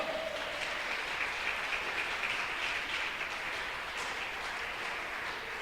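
A church congregation claps together in steady, dense applause that holds at a moderate, even level throughout, with no voices standing out.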